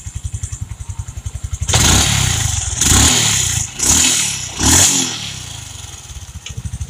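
A nearby carbureted Honda XRM 125 motorcycle idles with a steady rapid putter, then revs hard three times in quick succession before dropping back to idle.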